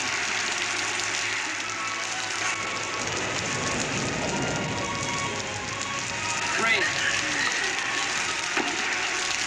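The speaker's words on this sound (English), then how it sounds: "It's raining." Steady rain patters on surfaces all around in a 1960 television western, a dense hiss with scattered drops, with faint voices in the background.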